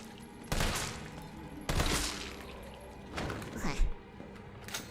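Assault rifle bursts ring out in a zombie video game, three or four loud sharp volleys spaced a second or so apart over a low game background, with a voice talking faintly underneath.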